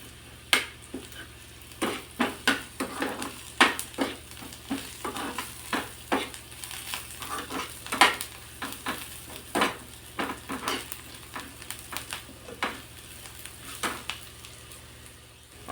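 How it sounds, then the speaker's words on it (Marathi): Stone flower (dagad phool) sautéing in hot oil for a spicy thorny brinjal curry, with repeated sharp spoon-on-pan stirring clicks over a steady low sizzle, fairly close and alone. "माझ्याकडे होतं म्हणून मी थोडंसं अगदी यामध्ये परतून घेते."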